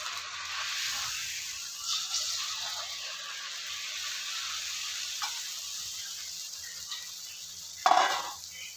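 Snack dough for a Gokulashtami treat sizzles in hot oil, a steady close hiss of frying with soft stirring bubbles and a brief louder crackle near the end.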